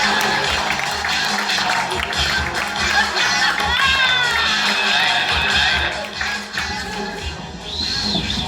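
Comedy roast crowd for Jono Zalay, from San Diego, California: a dense, steady roar of clapping, cheering and whoops that stays loud throughout and eases slightly toward the end.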